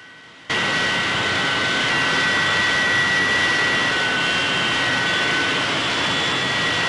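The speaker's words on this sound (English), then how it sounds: "N2 will continue to pick up speed until it is stabilized at the designed ground idle engine speed." A gas turbine jet engine spools up toward ground idle: a sudden loud onset of roaring whine with steady high tones, holding strong and even.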